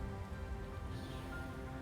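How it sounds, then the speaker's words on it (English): Steady rain falls in Phantasy Star Online 2: New Genesis, a soft, continuous patter on surfaces with faint low ambient game sound underneath and no talking. "The rain"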